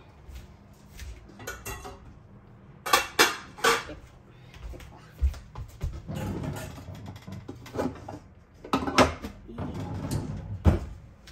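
Metal clatter and clanks from a pan and its lid while yaki udon is being cooked, with scattered sharp knocks and scrapes in irregular bursts and quiet gaps between them.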